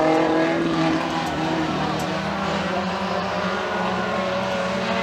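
Mini stock race cars roar around the track at Freedom Motorsports Park during a heat race, their engines a dense, continuous drone that stays loud and steady throughout, with a faint voice underneath.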